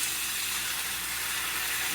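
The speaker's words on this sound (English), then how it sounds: "I'm going to pour a little of this salty potato water in here." Salty potato water poured into a pan while a steak cooks gives a steady hiss and sizzle, loud and even for about two seconds.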